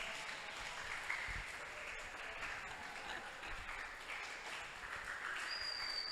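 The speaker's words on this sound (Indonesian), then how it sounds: "Kalau mau tepuk tangan aja" Applause from a talk show audience at an anniversary event, a steady wash of many hands clapping at moderate level throughout, slightly distant and roomy, with a faint high tone near the end.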